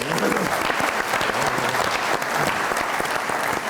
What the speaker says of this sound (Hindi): बहुत सारी तालियां मैडम के लिए।